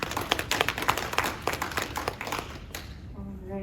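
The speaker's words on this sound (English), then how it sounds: "Let's have some applause for Jenny." Audience clapping at a public health policy forum, a brisk burst of many hands that is fairly distant and fades out after about three seconds, with a faint voice or tone rising at the end.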